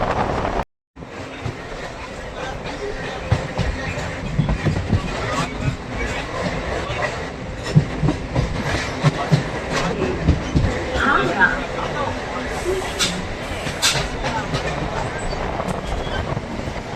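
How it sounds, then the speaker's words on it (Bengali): Barasat to Bangaon electric local train pulling into Habra station, steady rumble and clatter of carriages on the rails with occasional squeals and crowd murmur, someone talking over the noise throughout. "এই মুহূর্তে আমাদের ট্রেন প্রবেশ করছে হাবড়া রেলওয়ে স্টেশনে।"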